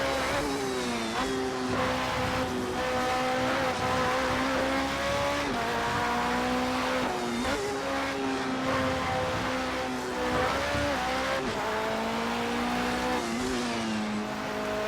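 Porsche race car lapping the Nürburgring Nordschleife, its engine loud and close, revving up and dropping back through repeated shifts, with some tire squeal and no voices over it.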